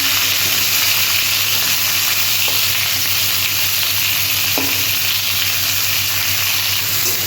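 Onions frying in hot oil in a pan, a loud, continuous close-up sizzle and crackle that holds steady throughout, with faint stirring scrapes.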